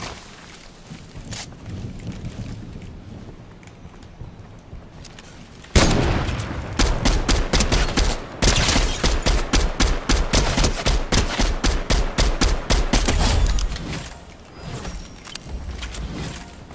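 Rapid bursts of automatic gunfire in the video game Fortnite crackle in long, dense volleys after a quieter stretch, with a few isolated shots and some heavier booms.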